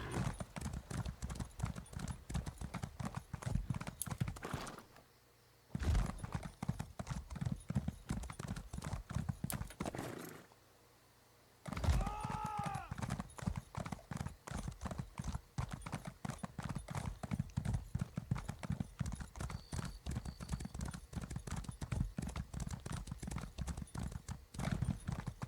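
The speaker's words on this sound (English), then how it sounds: "This is my speed horse" Steady hoof clip-clop of a horse walking around a lake in a video game, a riding mount, continuous and close, with two brief silent gaps and a faint whinny-like call midway.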